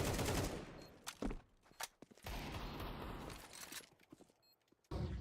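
Desert Eagle pistol shots ring out in a Counter-Strike match, several loud sharp cracks in an irregular burst over dense game noise, then a lull before another blast at the end.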